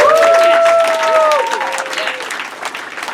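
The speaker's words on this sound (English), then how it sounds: "just give a huge round of applause to your servers and wait staff, everybody" A stand-up comedy crowd applauds the servers and wait staff, with loud, dense clapping and high whoops or whistles riding on top, fading somewhat toward the end.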